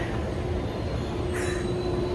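An airport air tram runs between terminals with a steady rolling rumble and a faint high whine from the wheels, briefly joined by a short squeal.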